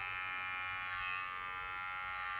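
Electric hair clippers run in a steady, close buzz while trimming hair around the ear during a home lockdown haircut, holding a constant drone throughout with no pauses.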